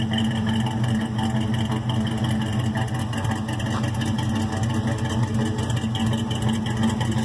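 A vehicle on a scrap run, loaded with brass, idles while it warms up, giving a steady, unbroken mid-pitched engine hum at close range that keeps an even level throughout.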